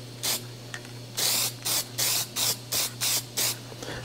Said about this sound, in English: we're gonna give it some more lacquer